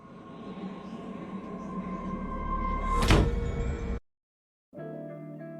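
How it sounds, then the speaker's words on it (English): A door in a scary video slams shut with one sharp, loud bang over a rumbling, steady background, followed by abrupt silence and then a sustained tonal hum. "Then the door behind him slams shut."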